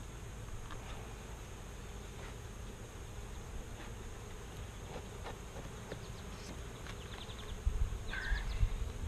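Honeybees buzz steadily around an open hive during a beekeeping inspection, a faint continuous drone with scattered clicks and frame handling noises that grow louder near the end.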